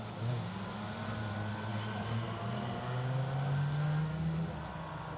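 A Mazda MX-5 rally car at the Donington Rally runs with a steady engine drone whose pitch slowly climbs as it accelerates, heard alone at moderate distance over outdoor ambience.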